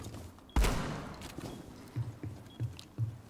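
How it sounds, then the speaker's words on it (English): Gunfire in Rainbow Six Siege aimed at cover, with one loud sharp shot followed by a few fainter, evenly spaced thumps. "I want to see if you can shoot through this"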